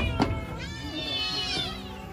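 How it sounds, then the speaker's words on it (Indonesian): A kitten at a garden house meows in a drawn-out, wavering cry, close and clear, with a short sharp sound just before it and no talk. "Tu ada anak kucing teman-teman di sini."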